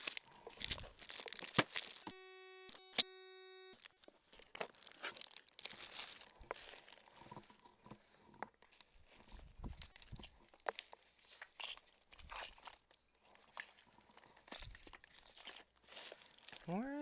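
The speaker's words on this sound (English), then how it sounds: "Can you hear me shuffling around through all my stuff?" Someone shuffles through belongings during a Minecraft livestream, with sustained crinkling and rustling of packaging and items close by, interrupted briefly by a short tone, while a person talks over it.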